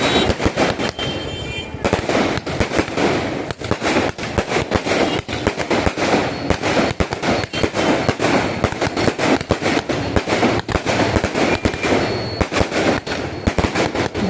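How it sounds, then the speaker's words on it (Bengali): Fireworks and firecrackers burst outside a wedding venue at night. The bangs and crackles come in loud, rapid, irregular volleys, crowding densely together for the whole stretch, with faint voices underneath. "ওদিকে বাজি ফাটছে"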